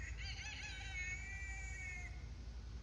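A rooster crows once, a clear, drawn-out call lasting about two seconds over a low background rumble.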